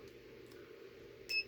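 An Amprobe AM570 digital multimeter gives a single short, high continuity-test beep near the end, clear against a quiet, faintly humming background.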